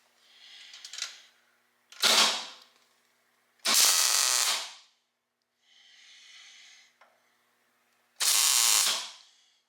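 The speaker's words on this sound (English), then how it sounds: "I'm going to go ahead and tack weld it." Tack welding a steel foot support on a John Deere 214 mud mower build: four sharp, crackling bursts about a second long each, separated by pauses, with a fainter buzzing hiss in one gap.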